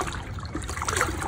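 Water carrying fine clay mud across a gold-prospecting shaker table, a steady close trickling and splashing wash with no pauses and no voices.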